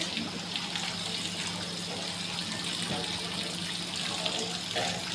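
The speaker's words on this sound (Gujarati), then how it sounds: "તો વરસાદ શરૂ થઈ ગયો છે" Rain falling steadily outdoors on a windy day, a dense, even hiss of water that holds at a constant moderate level throughout with no voices.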